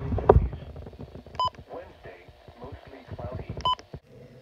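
Weather radio alert test tone from a new NOAA weather radio, two short bright tone bursts sounding over ongoing indoor conversation.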